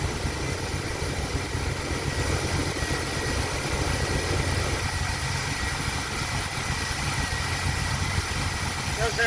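A car engine with TBI fuel injection idles steadily after a cold start, a continuous low rumble holding an even level throughout with no change in pitch.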